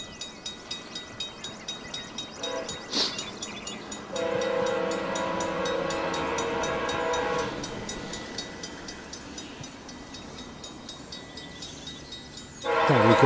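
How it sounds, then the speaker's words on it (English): A train near Limoges rumbles past, clattering steadily over the rails, while a loud horn blasts in long sustained tones up close, with a final blast at the end. "That horn is really loud, so beware. Here it comes."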